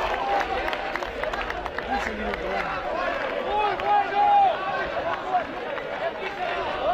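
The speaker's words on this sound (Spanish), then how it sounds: "Todos aplauden, todos celebran." A rugby crowd at a Los Tordos versus Liceo match applauds and celebrates a home penalty, with a continuous rumble of clapping and cheering voices and commentary running over it.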